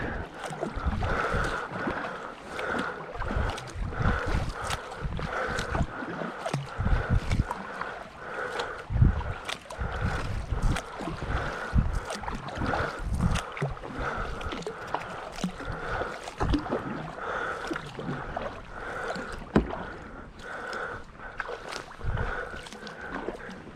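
Churning, rushing water swirling through a narrows during a sea kayak tour at Musgrave Point, with irregular splashes and thumps, wind noise over the microphone, and a steady tonal hum underneath throughout.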